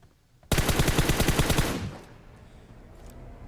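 A sustained, rapid burst of automatic gunfire from PUBG Mobile, about a dozen close, loud shots in quick rhythm lasting over a second, then fading into quiet background.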